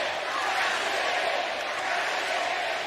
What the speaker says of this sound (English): And the crowd continues to chant, "Cash it in."